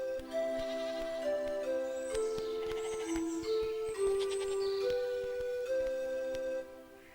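Cartoon goats herded by a boy in a children's fairy tale bleat in a long series of sustained, wavering calls, close and clear over light background music.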